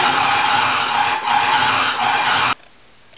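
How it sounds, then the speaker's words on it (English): A car skidding sound effect played on a Yamaha YPG-235 keyboard gives a loud, steady tire-screech hiss for about two and a half seconds, then cuts off abruptly into near silence. "Finally it started, and you floored it."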